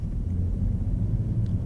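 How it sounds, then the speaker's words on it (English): A BMW 325xi E90 straight-six accelerating at low revs, a deep, steady low rumble heard from inside the car, continuous and even with no voices. "deep sound from the engine. It's characteristic for the straight 6 BMW engine."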